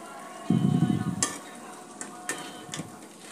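Boiled vegetable stalks dropped into a sizzling dried-fish curry in a pan: a loud burst of frying on impact, then a few sharp utensil clinks and softer stirring scrapes.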